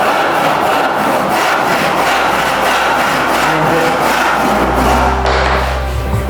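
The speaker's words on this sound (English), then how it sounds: "Come around and catch the top of the moulding before you cut right through." A hand saw cuts through wooden door moulding with steady back-and-forth strokes, loud and close, ending in a low thud as the cut finishes.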